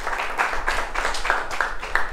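An audience claps steadily at a CA-CPT accounts quiz contest, producing a dense, moderately loud patter of hand claps that continues throughout without a pause.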